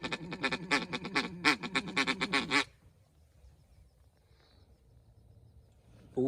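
Duck call blown during a duck hunt, a rapid string of loud raspy quacks for a few seconds, then quiet outdoor air.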